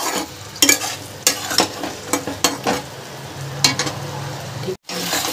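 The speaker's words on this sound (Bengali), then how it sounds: "জলটা দিয়ে আমি ভালো করে এবার ফুটিয়ে এবার ঝোলটাকে একদম শুকিয়ে ফেলবো" Chilli chicken gravy thickened with cornflour water bubbling down in a pan, a soft simmering hiss broken by several sharp spoon scrapes and stirs, close and alone.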